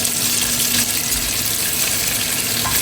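Carrots, raisins, spices and salt sizzle steadily in hot fat in a cooking pot, a continuous close frying hiss with no talking.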